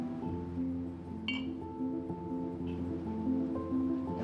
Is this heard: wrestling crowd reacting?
no